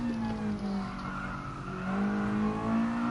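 Tyres of a Mazda touring car in a racing video game squealing as the front end slides through a corner at Spa, a continuous wavering screech over steady engine drone for a few seconds.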